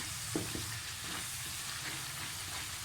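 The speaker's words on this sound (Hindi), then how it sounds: "मसाला अच्छे से भूनना है" Masala spices sizzle and fry in a pan for an arbi curry, a quiet, steady crackling hiss with a couple of brief scraping stir sounds early on, close and alone without speech.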